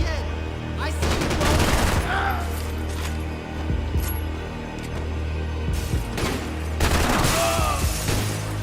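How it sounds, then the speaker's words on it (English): Repeated gunfire from the video game Max Payne 3, bursts of shots and booming blasts cracking out in clusters across the whole span over a steady game background, with no voices. "And then shoot him again!"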